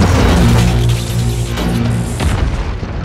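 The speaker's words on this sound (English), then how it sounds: "Plasma cannon!" Plasma cannon fire from a giant robot film action scene, a loud deep booming blast that rumbles and decays over a few seconds with low explosive roar.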